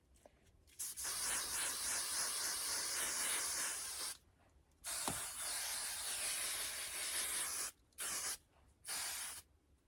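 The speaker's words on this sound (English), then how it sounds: "And I always, like, you know, cover my face when I spray." Several bursts of hairspray hiss close up, a long one, then another long spray, then two short puffs, with brief silences between, while curling hair.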